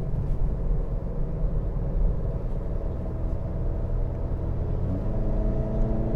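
A 2013 Honda Civic 2.0 accelerating, heard from inside the cabin as a steady low engine rumble and drone that holds fairly constant without clear revving peaks.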